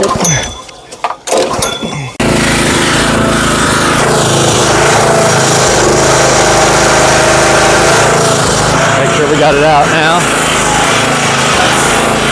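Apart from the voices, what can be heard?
small gasoline engine running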